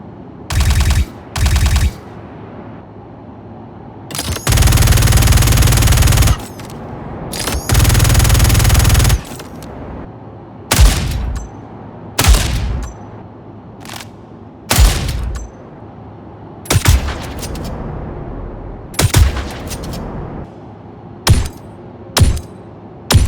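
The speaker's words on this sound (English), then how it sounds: "the guns are all sounding really nice and meaty as well" Gunfire from weapons in the space game Star Citizen: loud, close bursts of sustained automatic fire mixed with short volleys and single sharp shots, separated by brief pauses.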